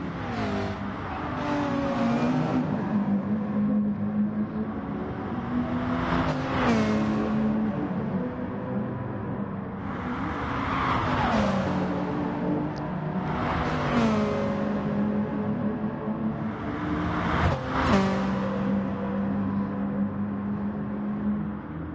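GT3 race cars in a racing video game, engines droning and rising through repeated upshifts and downshifts, several cars passing close together along the track with whirring tyre and wind noise.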